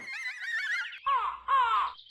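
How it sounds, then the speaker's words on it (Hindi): A crow gives a drawn-out raspy call followed by two shorter harsh caws, close and loud with brief pauses between. "वो कौवा ही है जो कौवे की तरह बोल रहा है।"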